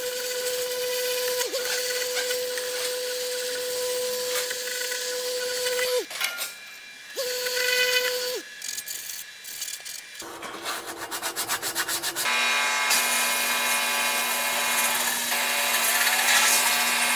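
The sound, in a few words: sanding a Peugeot 206 wheel rim with coarse grit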